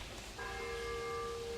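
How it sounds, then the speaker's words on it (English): A church bell strikes once near a house, its clear sustained ringing tone entering partway through and holding steadily over faint outdoor background noise. "Here's that annoying bell that I don't like at the church."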